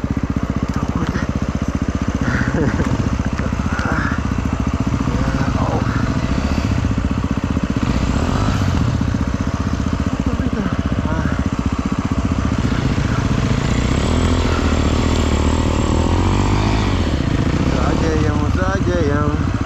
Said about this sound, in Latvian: Zāģējam.